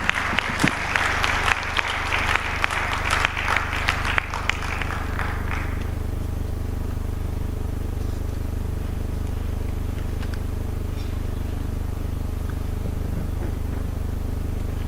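A round of applause ripples through the hall at a mining ministers' conclave, brisk clapping for about five seconds that fades out, leaving a steady low hum of the room.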